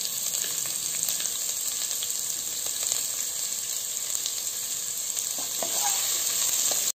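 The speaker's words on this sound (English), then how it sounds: "I'm adding the required amount of salt to the onion so that it gets cooked quickly. Add the salt and toss it for 2 minutes." Chopped onions with salt sizzle and fry steadily in a pan, a continuous close hiss with occasional soft stirring scrapes, no voices.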